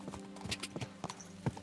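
Horses in Kingdom Come: Deliverance II clatter along in a steady clip-clop of hooves during a race, hoofbeats close and fairly faint, with an occasional snort and no talking.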